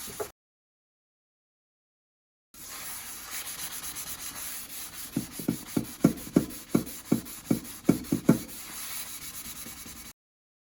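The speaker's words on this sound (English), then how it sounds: "With your sponge, I'm using a scrub daddy sponge, and begin to scrub" A Scrub Daddy sponge scrubs the bottom of a pan in steady back-and-forth strokes, with about ten distinct rhythmic rubbing scrapes after a quiet start under a continuous running-water hiss.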